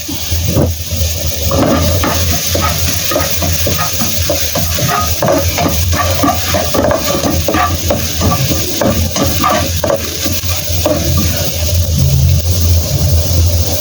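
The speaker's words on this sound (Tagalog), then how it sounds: "Fry natin yung ating garlic." Garlic frying in a pan, a steady loud sizzle with occasional stirring scrapes and clatters, close and continuous with no talk.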